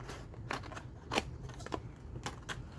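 Scissors snip a paper folio flap down by about half an inch, giving quiet, crisp cuts in an irregular rhythm, five or six distinct snips over a low background hum.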